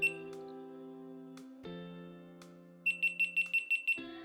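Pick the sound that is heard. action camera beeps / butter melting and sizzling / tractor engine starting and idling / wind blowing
action camera beeps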